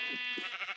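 Short, loud, nasal bleat from a sheep in a Naruto-modded Minecraft game, a single call heard close and alone.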